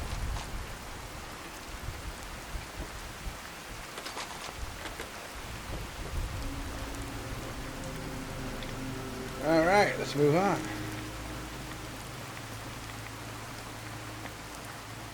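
Steady rain and rumbling thunder from a stormy day in Fallout 4 fill the whole span as a constant wash, with a brief louder burst near the end, while a voice speaks briefly over it.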